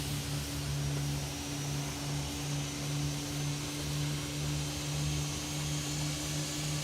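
Airbus A320neo jet engines in the X-Plane 12 flight simulator, Frontier Airlines livery, give a steady, even drone with low tonal hums and broad hiss throughout, no voices.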